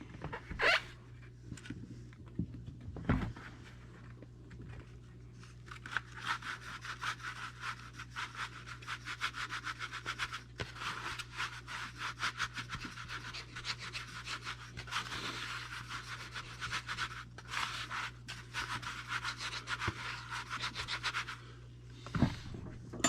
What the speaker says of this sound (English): Okay, we're going to screen some sand in there.